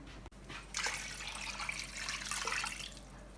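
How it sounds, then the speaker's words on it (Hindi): Running water pours steadily into a cooking pot with a broad hissing splash after a brief click, continuing evenly for a few seconds without any voices. "सबसे पहले हम पानी को ऐड कर लेंगे।"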